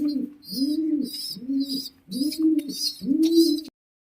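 Pigeons coo close by in five evenly spaced, rolling coos, each a low throaty call with a softer breathy overtone, then fall silent.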